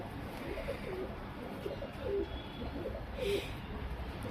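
Male Jacobin pigeon cooing in a loft, a few soft, separate coos spaced across the clip over a low, even background murmur.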